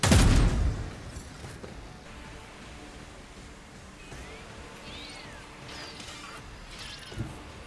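A single loud gunshot in the Warhammer 40K Rogue Trader game cracks out at the start, then fades into a quiet background with faint high chirps and one small thump near the end.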